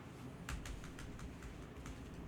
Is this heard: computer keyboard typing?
yes